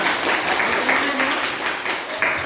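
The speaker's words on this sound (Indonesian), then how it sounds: "Ya, berikan tepuk tangan." A classroom of students applauding in an Indonesian lesson on entrepreneurship: continuous, fairly loud group clapping with a steady, even texture throughout.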